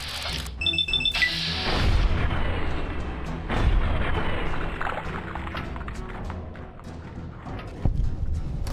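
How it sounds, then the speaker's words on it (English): Gunfire aimed at the player amid a ruined crater in the video game Fallout: New Vegas: a rolling barrage of booming shots and thuds, dense and fairly loud, with sharper impacts scattered through a rumbling backdrop. "Who's shooting me?"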